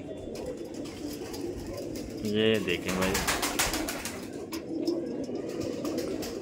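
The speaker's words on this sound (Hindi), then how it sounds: "ये देखें बालीदार कबूतर है ये भी" Rampuri pigeons, including a crested male and a round-cut female, coo in a brief burst near the middle, close by, over steady background noise and someone talking.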